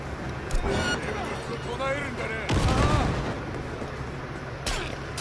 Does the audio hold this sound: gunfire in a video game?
yes